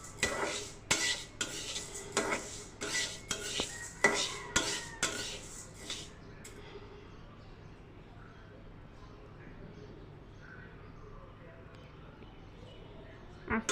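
A utensil scrapes and clatters against a pan while stirring mung dal with chicken skin over low heat, making about a dozen sharp metallic knocks in an uneven rhythm for six seconds, then quiet cooking ambience follows.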